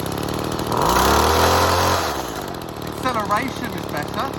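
A small engine idles on six-month-old fuel, a loud steady buzzing drone that rises briefly in pitch, while a person talks over it near the end.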